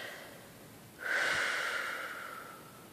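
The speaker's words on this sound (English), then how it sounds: "Make sure when you're releasing your tension that you take the time to breathe" A single slow exhale to release body tension, soft and close, a breathy rush that starts abruptly after a quiet pause and fades gradually over about two seconds, with no voice.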